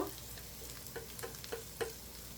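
Spices with dried red chili powder sizzling and being stirred in a hot pan for egg bhuna curry, a soft steady fry with a few light scrapes of a spoon, close and without talk.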